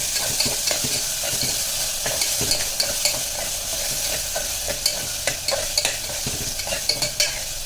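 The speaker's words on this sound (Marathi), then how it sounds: "आता आपण ह्याच्यावर मसाला लावलेले सोडे जे आहेत ना ते टाकूया आणि छान तिथे चौकून जाईल" Dried shrimp coated in masala sizzle loudly in a pan with browned onion, a steady fry hiss broken by frequent scraping stirs and clinks of the spoon.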